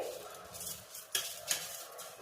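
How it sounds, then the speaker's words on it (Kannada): Washed rice being stirred into water in a pot for palak rice, with a few clinks of a spoon against the pot over a soft wet swishing; no talk. "ನಾನಿವಾಗ ಚೆನ್ನಾಗಿ ತೊಳೆದಿಟ್ಕೊಂಡಿರೋ ಅಕ್ಕಿನ ಅದಕ್ಕೆ ಮಿಕ್ಸ್ ಮಾಡ್ಕೋತಾ ಇದ್ದೀನಿ"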